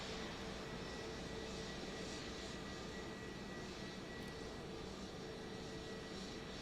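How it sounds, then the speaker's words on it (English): At Joint Base Andrews, an aircraft carrying King Charles and Queen Camilla taxis across the large tarmac, producing a faint, steady engine roar and hiss that holds constant throughout with no voices. "Continuing to see this plane here making that long journey across the very big tarmac there at Joint Base Andrews with King Charles and Queen Camilla."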